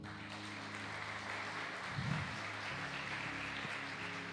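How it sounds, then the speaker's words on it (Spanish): Church congregation applause during a sermon, a sustained wash of clapping over a low hum, moderately loud and steady. "Dale un aplauso al Señor."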